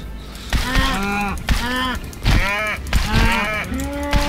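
Cows mooing in Minecraft, a series of five or six loud, drawn-out moos following one another closely, with a faint mechanical clicking underneath.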